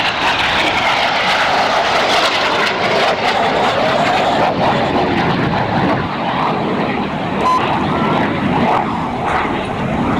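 RAF Red Arrows jets flying the boomerang display manoeuvre at an air show, a continuous loud roar of jet engines that swells and shifts throughout, with no talk.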